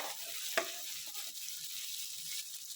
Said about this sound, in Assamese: এইখিনি এতিয়া অলপ সময় ভজা হ'লে